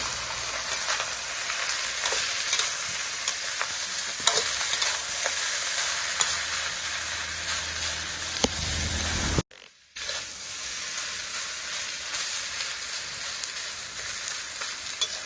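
Rice stir-fried in a wok with crispy pork belly, fish sauce and sugar, giving a steady loud sizzle with scraping and stirring clatter throughout, a brief cut near the middle, and no talking.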